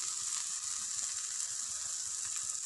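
Pav bhaji mixture with kasuri methi fries in a pan, making a steady, soft, even hiss with faint bubbling and no talking.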